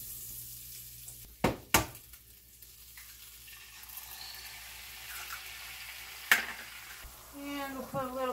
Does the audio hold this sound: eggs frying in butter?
yes